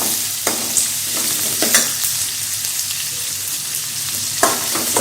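Sliced large onions sauté in a hot pan with steady, close sizzling, broken by repeated scraping stirs of a spoon against the pan.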